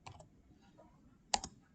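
A computer keyboard types a command in an Ubuntu Linux terminal: a few quiet, scattered keystroke clicks, a pair early and another pair near the end, over a near-silent background with no talk.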